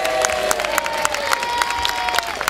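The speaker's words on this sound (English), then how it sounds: "Give him a round of applause" At a live reenactment of the Battle of Bannockburn in Scotland, an outdoor crowd claps and cheers, with scattered whoops and children's shouts rising over sharp, uneven handclaps.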